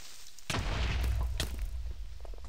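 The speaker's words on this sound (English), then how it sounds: "Come on, don't tell me you survived the creeper explosion." A creeper explosion in the Minecraft video game bursts with a loud boom, followed by a second sharp blast and a noisy, crackling decay.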